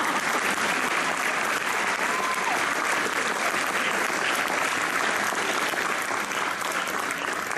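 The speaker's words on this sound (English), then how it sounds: "Let's give these award recipients one more big round of applause." Loud, sustained applause from an audience at a 2016 high school honors convocation fills the whole stretch as a dense, steady wash of clapping with no break.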